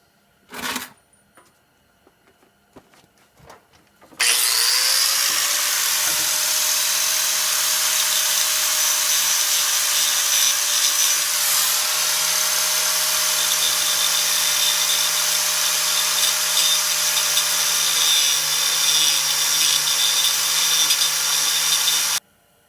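Power grinder working on a Dodge Neon front wheel bearing during replacement: a few faint clicks and handling noises, then a loud continuous whine that spins up and holds steady for about eighteen seconds before cutting off sharply.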